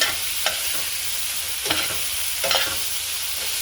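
Shrimp and vegetables sizzle steadily in a pot, a constant hiss with a few soft scrapes of stirring, close and clear with no talking.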